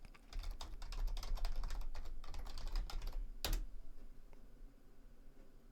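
Rapid clicking of a computer keyboard while typing an Ubuntu release-upgrade command, close and quiet, a steady run of keystrokes followed by a single sharp key hit, then near silence.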